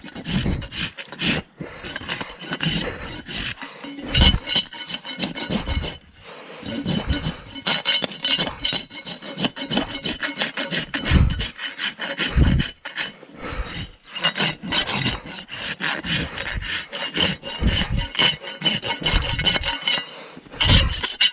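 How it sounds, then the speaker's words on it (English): A farrier's rasp working over a horse's hoof, loud rhythmic scraping strokes repeated back and forth with only brief pauses between passes. "After you rasp it"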